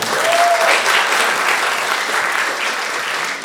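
A stand-up improv comedy audience breaks into loud, dense applause that fills the room, holds steady throughout and then eases slightly toward the end.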